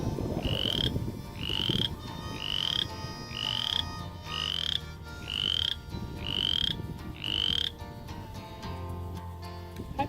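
Shrill upward-sliding peeps from a tiny spring peeper frog in water repeat about once a second, eight or so in a row, over a low rumbling background.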